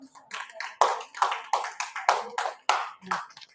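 An audience at a meditation gathering claps loudly and steadily in a run of regular, rhythmic bursts, close and full, with a voice briefly audible.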